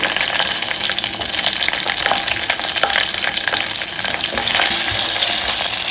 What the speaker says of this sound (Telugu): ఉల్లిపాయలు, ఒక టమాటా చిన్న ముక్కలు కొంచెం దోరగా వేగనివ్వాలండి.